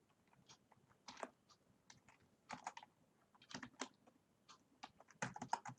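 Typing code on a computer keyboard in Google Colab: irregular bursts of close, crisp key clicks, some rapid and clustered, separated by short pauses, with a low background hum.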